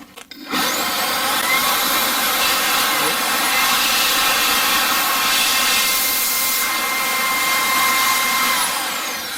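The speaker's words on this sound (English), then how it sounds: "And blow with the air blower, especially in this area here, this corner here" Air blower cleaning an ASUS Dual RX 6750 XT graphics card: a sudden loud, steady hiss of rushing air starting right away and holding close and constant to the end.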